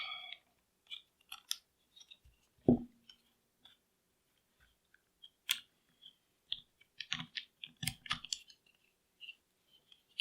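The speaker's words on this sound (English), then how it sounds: "we drop the locking block right back into place" A locking block is set back into a Colt 2000 pistol, giving sparse, close metallic clicks and light knocks with one duller thud, separated by silence, and no voices.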